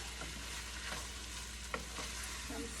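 Ground beef and potatoes being stirred in a frying pan over low heat, a soft steady sizzle with occasional scraping strokes of a utensil, faint and close.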